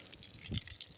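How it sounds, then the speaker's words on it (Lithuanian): Water pours from a small borehole into a 12-litre bucket, a soft, steady gush and splash heard close but faint over one second. "Bėga vanduo."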